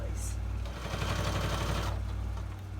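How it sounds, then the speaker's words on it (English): Sewing machine stitching a strip of material onto a junk journal, a steady close mechanical whirring and rapid needle rattle running throughout at even loudness. "I'm just going to take this over to the sewing machine and sew this strip into place."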